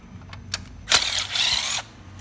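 Ratchet wrench clicking on the 12 mm bolts of an Evo 8 clutch slave cylinder, a few light ticks followed by a longer, louder burst of rapid ratcheting close up, then quiet.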